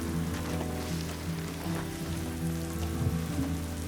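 Steady rain falls during an outdoor walk, a constant hiss of drops on surfaces beneath a low, continuous rumble, with no voices.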